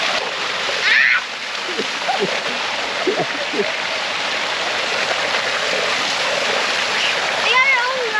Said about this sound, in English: We got our own waterfall.